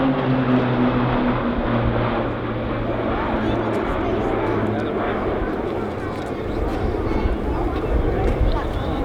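RAAF Roulettes PC-9A propeller aircraft fly in line abreast formation during an air display at RAAF Base Point Cook, making a continuous broad engine drone, loud and steady, with a voice talking over it.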